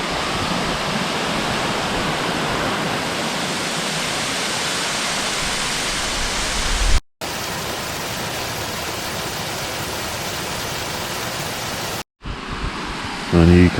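A small waterfall pours in a continuous, loud, even rush of water close by, with two brief cuts in the sound and a few faint voices near the end.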